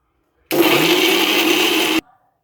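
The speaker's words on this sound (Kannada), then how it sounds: "ಇವಾಗ ಇದನ್ನು ನಾನು ರುಬ್ಕೊಳ್ತೀನಿ." Kitchen mixer grinder grinding sambar masala for a Karnataka-style black-eyed pea and ridge gourd sambar, one loud continuous whirring burst of about one and a half seconds that starts and stops abruptly.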